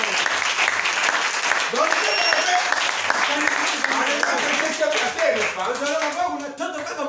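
Church congregation clapping and cheering in praise, dense sustained applause with voices shouting over it throughout, fading slightly at the end.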